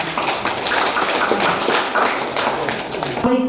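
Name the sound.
applause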